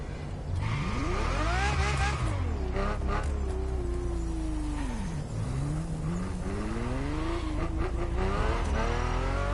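A Ferrari GTO roars through an event in the racing game The Crew Motorfest, its engine note climbing and falling through repeated revs and gear changes, loud and close, with brief tire squeal.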